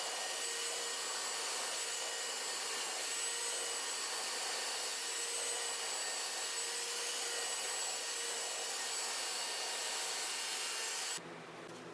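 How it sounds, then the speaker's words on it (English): A wooden skateboard-deck wall mount is sanded down to a template line with a power sander, a steady loud whirring rasp that runs continuously and then drops off near the end. "Sand down to the line on the template"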